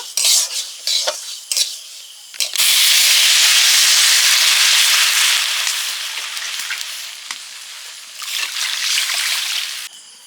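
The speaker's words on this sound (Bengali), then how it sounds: "একটু তেল দিয়ে মুগ ডালটা ভেজে নিচ্ছি সেদ্ধ করার জন্য" Moong dal fried in oil in a pot makes a few metal clinks and scrapes, then a loud, hissing sizzle that fades slightly before rising again. The stirring continues throughout.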